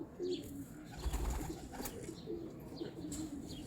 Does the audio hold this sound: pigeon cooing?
yes